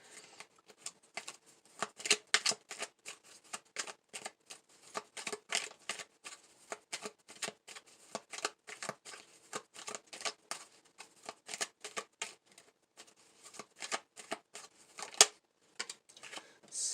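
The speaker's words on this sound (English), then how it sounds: "we're going to pull some message cards for you" Tarot cards being shuffled and pulled, a steady stream of quick, crisp papery riffles and flicks, close and moderately loud, continuing without pause and with no talking.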